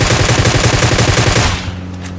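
Dense automatic gunfire from the video game PUBG, loud sustained bursts that cut off abruptly, leaving a short ringing tail and quieter game ambience.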